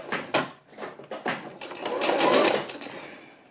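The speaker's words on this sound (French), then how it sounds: "vous pouvez commencer à coudre tranquillement" A sewing machine stitches an invisible zipper into a salsa dress along a fold, starting with short stop-and-go bursts that settle into a steady, louder run of close, rapid stitching.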